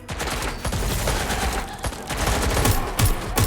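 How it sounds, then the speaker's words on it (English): Sustained automatic gunfire in Watch Dogs Legion, a dense, loud volley of rapid shots with sharp bursts and heavier booms continuing throughout, no voices. "Someone's open fire!"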